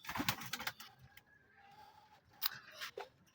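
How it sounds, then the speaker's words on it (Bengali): Pigeons in a backyard loft at morning feeding time give soft, low coos, mixed with sharp flutters and scratchy clatter near the birds, with quiet gaps between bursts. "এই যে আমার কবুতরগুলা"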